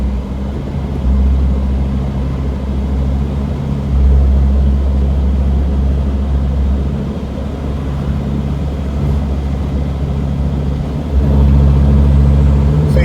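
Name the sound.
failing turbo on a Mercedes Sprinter T1N van accelerating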